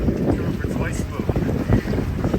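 Steady breeze of about 10 knots across a sailboat running down the Chesapeake Bay, a continuous rushing wind buffeting the microphone with low rumble throughout.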